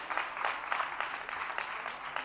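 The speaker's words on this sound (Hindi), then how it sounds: "एक जोरदार तालियां आप सबकी ओर से।" An audience applauds at an honouring ceremony during a Jain monk's sermon gathering, a steady crowd of hand claps heard somewhat faint and distant without a break.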